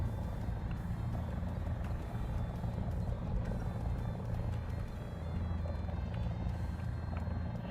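A War Thunder helicopter thrums with a steady low rotor and engine drone at moderate distance, unbroken and fairly faint, with no talking.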